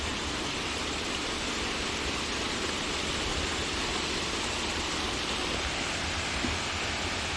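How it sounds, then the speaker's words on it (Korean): Steady, dense rush of falling water near Cheonjeyeon Falls on Jeju, a continuous broadband roar with no breaks, no talk and no other distinct sounds. "물소리, 새소리, 바람소리 너무 좋네요."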